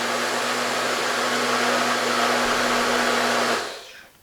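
A food processor whirs loudly on a green pea mixture, one sustained high-pitched motor run of a few seconds that then winds down and stops.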